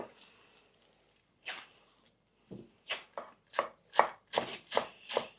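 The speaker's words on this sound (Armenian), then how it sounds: "Պետք է որ մանր յան կտրատենք։" A knife chops fresh greens finely on a board for Georgian khinkali, with a few soft taps first and then about nine crisp, evenly spaced, close cuts in a quick rhythm.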